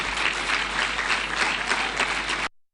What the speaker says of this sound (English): Could we please give them a round of applause?